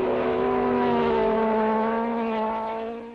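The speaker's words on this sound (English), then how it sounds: "And Clark, limping home, is passed by Rindt, now lying eighth." A 1967 Formula 1 race car at the Nurburgring during the German Grand Prix gives a loud, sustained engine drone that holds steady and then fades slightly as it passes, with no talk over it.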